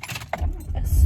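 Keys jangle close up as they are grabbed from behind something in a car, a short metallic clatter over low rumble, with a brief bit of a voice early on.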